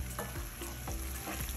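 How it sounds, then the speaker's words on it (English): Pasta noodles tossed in a hot pan with garlic and shrimp make a brief burst of sizzling and scraping, with quick stirring swishes over a steady fry, heard close up. "Then, we'll toss in our pasta noodles."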